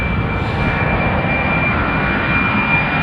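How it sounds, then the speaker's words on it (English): Jet airliners departing a runway at Amsterdam Schiphol Airport in cold weather, heard as a steady, loud, continuous engine roar with broadband rumble and a high whine throughout, no voices. "Planes are departing in northern direction."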